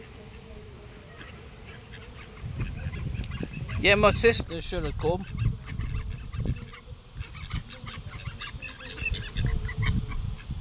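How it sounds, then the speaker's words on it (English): A large flock of ducks and geese quack and honk loudly near the microphone after being fed, a busy chorus of calls that continues under casual talk throughout. "So we've just finish feeding the ducks and they are"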